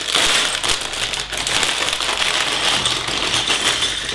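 A plastic bag full of small building-set parts, from a Lord of the Rings Black Gate set, rustles and crinkles continuously and close up, with dense rattling of loose pieces inside and no speech.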